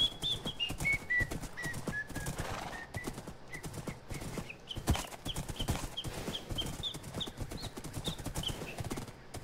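Horse hooves clip-clopping rapidly in a horse race within the video game Hunt and Run, dense galloping rhythm with whinnies and whistling tones layered over it.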